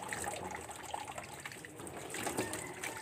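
Water from a hillside source runs continuously from a tap or pipe at a home dishwashing area, a steady splashing trickle heard fairly close and quiet, with no talking.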